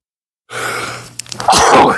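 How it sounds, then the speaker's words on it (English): A single person sneezes close by, a sharp intake of breath building to a quick, forceful burst. "I'm going to sneeze, of course."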